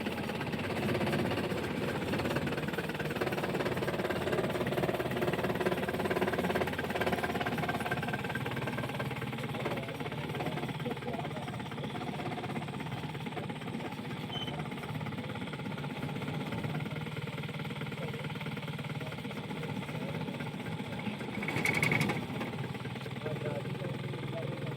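A car engine revs low and steady under gentle throttle during a night Bihar police driver test, a continuous rumble with a brief louder swell near the end.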